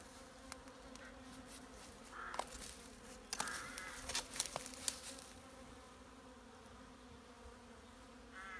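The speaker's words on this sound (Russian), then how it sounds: "Вот так летают пчелки, чистят." Honey bees flying around beehive frames they are cleaning outdoors, a steady close buzzing of several insects with a few louder passes near the microphone, no voices.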